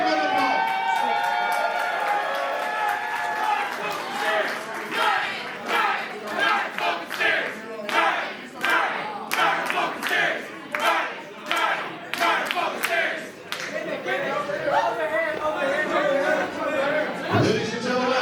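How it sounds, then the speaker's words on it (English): A wrestling crowd at a Christmas show roars, cheers and claps in a steady loud wash, with shouts and bursts rising and falling throughout and voices mixed in. "Give him a big round of applause."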